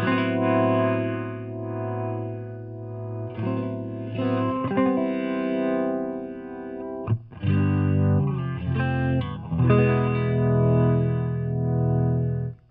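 Electric guitar played through a Fender Pinwheel rotary speaker emulator on its middle 147 setting at slow speed, sustained chords and notes swirling with a gentle, slowly wavering chorus-like modulation, moderately loud and without talk.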